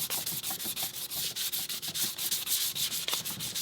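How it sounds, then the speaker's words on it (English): Coarse 60 to 80 grit sandpaper roughing up the surface of a prosthetic socket in rapid back-and-forth strokes, a steady close scratchy rasp with even rhythm and no voices. "using your 60 to 80 grit sandpaper, you want to rough up the entire surface"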